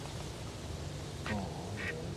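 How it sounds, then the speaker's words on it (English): Ducks at a hunting spot give a couple of short quacks in quick succession, distinct over a low background rumble. "Oh, a couple more ducks."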